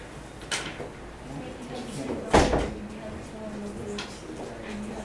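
A door closes in a classroom with a single dull thud midway, heard over faint room noise and a few light knocks.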